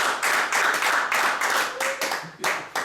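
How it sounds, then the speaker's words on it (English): Applause from a town hall audience, a few people clapping in bursts with short gaps between, fairly close and loud, fading unevenly toward the end. "So I just want to give him a round of applause."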